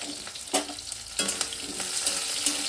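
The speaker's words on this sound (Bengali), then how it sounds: "আলুটা দিয়ে একটু ভেজে নেবো" Potatoes fry in a pan with a bright, steady sizzle, and a spatula scrapes and knocks against the pan as they are stirred.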